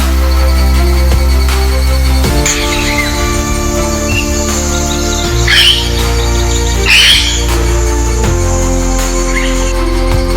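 African grey parrots in a forest where they were reintroduced, giving several harsh squawks and calls at moderate distance over a steady low drone, with bursts around the middle of the stretch.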